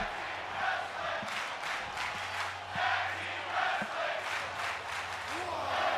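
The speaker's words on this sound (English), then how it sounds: "you guys could hear the crowd chanting tag team wrestling" Arena crowd in the video game WWE 2K25 chanting during a tag team wrestling match, a rhythmic chant that rises and falls over a steady crowd roar.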